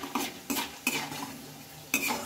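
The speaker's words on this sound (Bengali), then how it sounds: "ছোলার ডালটাও বন্ধুরা দেখো আমি তুলে নিয়েছি" Metal utensils clatter against a pan as fried chana dal is lifted out while making homemade chanachur: four sharp scraping clinks spaced irregularly, close and moderately loud, with quiet frying noise between.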